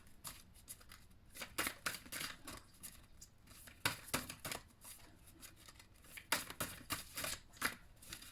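Large Egyptian tarot cards are shuffled and handled close up, with repeated crisp slapping and riffling bursts in irregular clusters, quiet overall with no talking.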